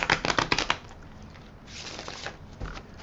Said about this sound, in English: I'm going to do a little bit more shuffling.